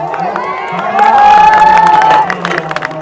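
Crowd at a Punjabi village fair weightlifting contest, with cheering and a sustained shout or whistle rising over clapping and general crowd noise, steady and lively throughout.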